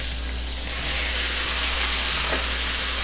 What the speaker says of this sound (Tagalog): Next step, ilagay na natin itong ating pusit.